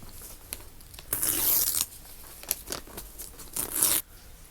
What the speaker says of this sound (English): After the paper's all ripped towards you